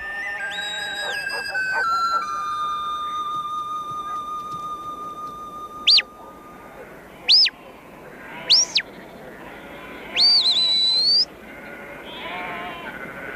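Sheep in New Zealand bleating in several short, loud, separate calls over a quiet outdoor background, with faint tonal whistles near the start.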